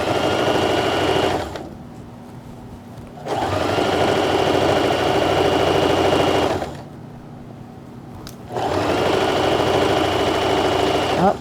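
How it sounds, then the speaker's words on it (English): A sewing machine stitches the inseam of pyjama bottoms in two long bursts of rapid, steady whirring, each pausing for a short quiet gap before starting again, close and clear. "And so now I'm sewing over that inseam."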